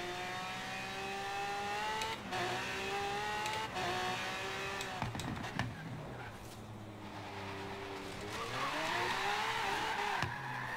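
Lamborghini engine in Forza Horizon 3 revving and shifting through gears, with rising whines, abrupt gear-change drops and bursts of tire skid, loud and close with no talk.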